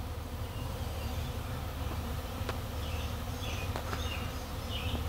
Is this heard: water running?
no